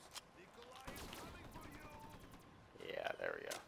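Shotgun fire in Black Ops 3 Zombies, a handful of sharp blasts spread across a few seconds, with a louder, denser burst of game effects near the end.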